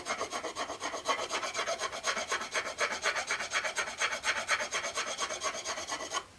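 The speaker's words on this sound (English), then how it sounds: "the next thing I'm using is a wood rasp. This is going to take off more material than sandpaper does." A wood rasp filing down a Cold Steel Frontier Hawk tomahawk, a steady rhythmic scraping of quick back-and-forth strokes, close and fairly quiet, with no talking.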